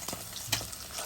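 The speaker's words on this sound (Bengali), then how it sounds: "দেখো আমার মাছগুলো ভাজা হয়ে গেছে" Pabda fish fry in oil, producing a short burst of close sizzling with a couple of sharp crackles and stirring scrapes.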